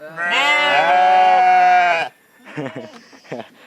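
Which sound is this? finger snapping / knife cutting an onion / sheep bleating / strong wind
sheep bleating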